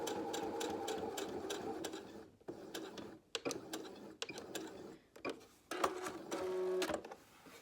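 A home sewing machine back tacking stitches on a cotton Christmas-tree napkin, a fast rhythmic needle clatter in short bursts separated by brief pauses, close and fairly quiet.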